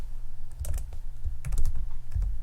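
Rapid clusters of keystrokes on a computer keyboard while entering text in a file's comment properties, the clicks arriving in short irregular bursts over a low steady hum.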